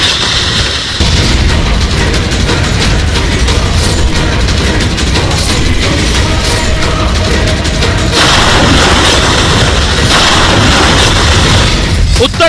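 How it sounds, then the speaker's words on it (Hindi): A bulldozer demolishes a criminal's house in Uttar Pradesh, giving a loud, continuous rumble of heavy machinery and collapsing masonry with crashing bursts throughout, and a change in texture partway through. "ये गिर रहा है मुन्ना यादव का घर"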